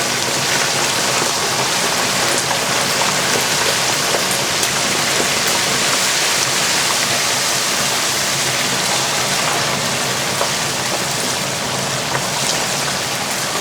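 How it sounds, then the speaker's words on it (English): A turkey being lowered into boiling oil for Cajun-style frying gives off a loud, steady, broadband sizzle and hiss that holds without a break. "Drop it in slowly. You don't want to drop it all in at once, because it'll really boil over sometimes."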